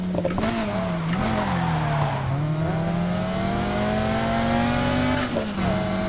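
Race car engines in Need for Speed Heat roar and rev continuously at a beach race, the pitch rising and dipping through gear changes, loud and close with no talk over them.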